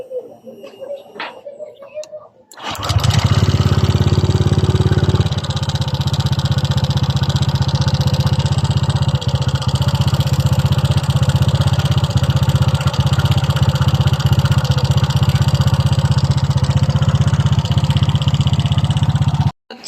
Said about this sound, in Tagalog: ito naman ang tunog ng kanyang makina guys